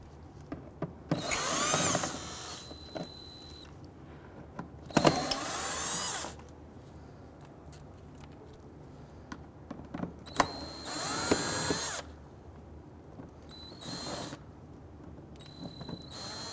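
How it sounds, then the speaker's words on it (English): Power drill fitted with a T20 Torx bit backs out screws along the forward edge of a fender liner on a 2008-2017 Buick Enclave, four separate close whirring bursts of a second or so each with quiet gaps between. "we're going to use our T20 Torx bit and remove the series of screws running along the forward edge of the fender"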